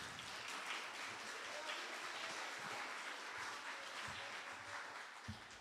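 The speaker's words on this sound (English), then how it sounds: "let's give Project Callisto another round of applause" A crowd applauds a student rocketry team at a university space day event, a continuous wash of clapping sustained for several seconds with some voices mixed in.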